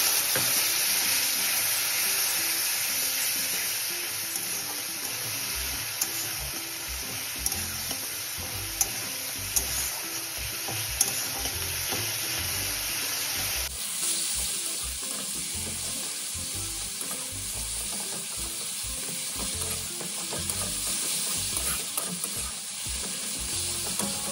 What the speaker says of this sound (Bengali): দিয়ে ভালোভাবে মশলাটাকে কষিয়ে নেব।